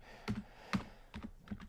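A few quiet, scattered keystrokes on a computer keyboard, soft clicks in short clusters with pauses between them.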